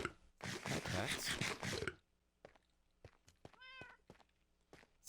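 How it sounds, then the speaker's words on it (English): Cats meow in a quiet room, one short, clear, tonal meow standing out among soft thumps and small noises after a burst of loud rustling. "Oh, hi cats."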